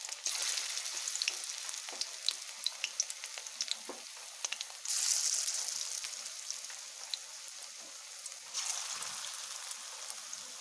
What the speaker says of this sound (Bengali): এবার আমি শিউলি পাতাগুলোকে পকোড়া আকারে ভেজে নেব